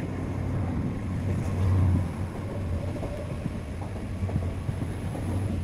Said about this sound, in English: There's a good train.